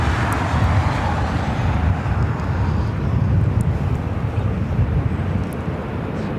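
A Southwest Airlines Boeing 737 MAX 8 inbound from Chicago Midway on approach to LAX, a loud, continuous low jet roar that holds steady and rumbles with some wind buffeting.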